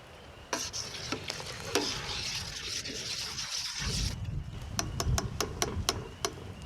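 Milk being stirred in a pot while vinegar is added to make paneer, with repeated sharp scraping clicks of a utensil against the pot over a soft sizzling hiss, fairly close and without talk.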